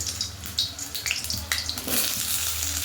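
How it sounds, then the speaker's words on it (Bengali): Potatoes frying in three spoons of hot oil in a home kitchen pan, a steady broadband sizzle with scattered crackles and pops, moderately loud and continuous, no voices. "তেল গরম হয়ে গেছে, এবার দিয়ে দিচ্ছি আলুগুলো।"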